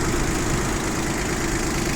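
A Yanmar Ke-3 four-wheel-drive mini tractor with a rotary tiller idles close by, a steady loud chugging drone with an even, unchanging rhythm.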